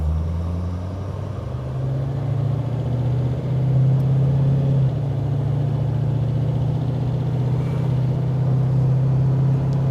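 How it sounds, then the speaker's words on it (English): A 1934 Plymouth's engine hums low and steady, its pitch rising as it picks up speed, a close rumbling drone with no voices. "I'm gonna put my foot on the gas pedal and off we go."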